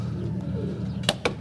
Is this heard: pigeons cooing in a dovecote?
yes